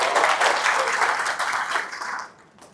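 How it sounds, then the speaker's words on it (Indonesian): A packed room of attendees claps for a speaker, a lively, even burst of applause that holds for a couple of seconds before tapering off abruptly. "Sekali lagi tepuk tangan"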